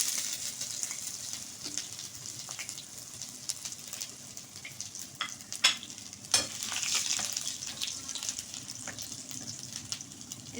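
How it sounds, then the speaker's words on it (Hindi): Cloves, black peppercorns and chopped ginger fry in a pan for a mung dal dish, giving a steady close sizzle with scattered sharp crackles and pops and occasional stirring scrapes, and no voices. "2 लौंगे और 4 से 5 काली मिर्चें ऐड करूंगी। अब हम इसमें चॉप किया हुआ अदरक ऐड करेंगे।"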